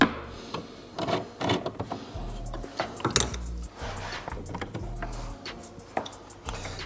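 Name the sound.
removing T30 screws from Porsche Cayman 718 interior panels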